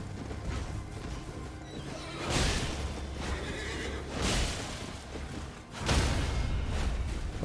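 A horse in the Elden Ring video game neighs in three loud, rough whinnying bursts spaced a couple of seconds apart, over a low mechanical rumble and clattering game effects.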